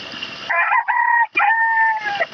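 A rooster crows once in a long, loud, drawn-out call broken by a short catch midway, close by and with no talk over it.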